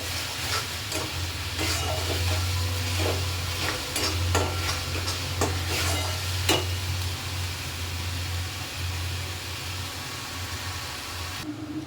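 Spice masala frying in a pan, a steady soft sizzle with a low hum beneath and occasional sharp clicks of stirring, close and fairly quiet, with no talking.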